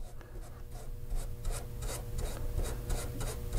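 A brush strokes nitrate dope onto the fabric covering of a Tiger Moth-turned-Stampe SV4 biplane fuselage, giving close, rhythmic scratchy rubbing strokes about every third of a second, with no talk.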